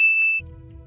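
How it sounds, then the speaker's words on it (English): A phone ringing effect in the Roblox heist game Entry Point gives a single clear electronic ding tone that holds briefly and then cuts to a low background hum. "the phone has a ringing sound effect in the game"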